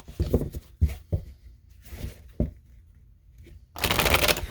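Tarot cards are shuffled by hand in several short riffling bursts with quiet gaps between them, ending in a longer, louder rustling shuffle.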